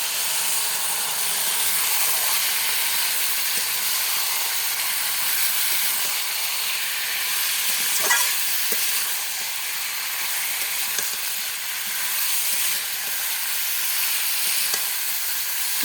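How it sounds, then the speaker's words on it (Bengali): Goat meat sizzles steadily in a pan as it is sautéed for a rustic village-style curry, a continuous close hiss and crackle with occasional faint stirring knocks. "মাংসটা দিয়ে দিলাম এবং মাংসটা আমি কষাবো।"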